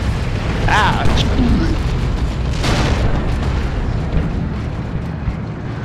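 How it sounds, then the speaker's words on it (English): Artillery shells burst in the Dawn of War 2 Retribution strategy game as dense, rumbling booms under constant battle noise, with a short shout from a voice in the game. "Here comes more artillery coming in middle."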